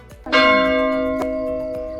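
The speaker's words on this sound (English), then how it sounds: "It's super quiet, just the sound of bells and the lake." A church bell by a lake in Switzerland strikes once, loud and resonant, its tone ringing out and slowly fading, with a fainter knock partway through the decay.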